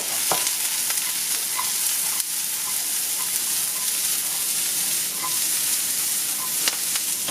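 Fennel, carrot, garlic and celery sizzle steadily in hot oil, a continuous bright frying hiss with occasional stirring clicks and soft pops, close and without talk.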